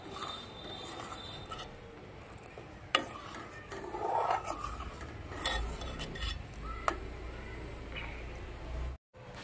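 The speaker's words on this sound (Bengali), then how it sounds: "মাঝে মাঝে এইভাবে আস্তে আস্তে নাড়তে হবে" A spoon slowly stirs payesh, a milky rice pudding, in a pot, with soft scraping and occasional light knocks against the metal over a low simmering background, close and fairly quiet.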